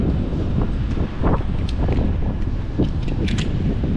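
Strong wind blows outdoors near a hotel in Doha, Qatar, roaring across the microphone as a loud, continuous rush with uneven gusts.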